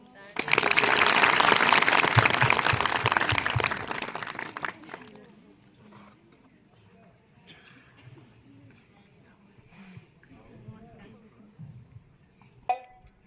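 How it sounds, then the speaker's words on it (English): Audience applause for Nino, a humanoid robot: a loud, close burst of clapping lasting about five seconds that cuts off into quiet room sounds and scattered small knocks. "Clap for Nino."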